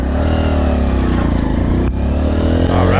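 A VGM Apache 125cc motorcycle engine runs loud and steady throughout, its pitch sliding as the bike pulls away under throttle, with a brief dip near the middle.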